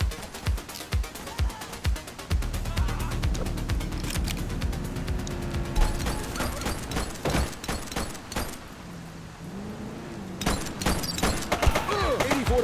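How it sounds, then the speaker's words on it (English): Gang shootout gunfire in the video game The Precinct: dense bursts of close shots and rapid volleys crackle continuously over a low rumbling bed, with a brief lull before more shots break out near the end. "Shots fired! Central shots. Possible gang shootout."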